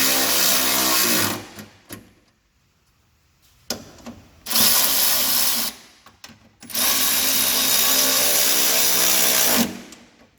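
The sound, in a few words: Milwaukee power tool tightening sway bar bolts on Mazda Miata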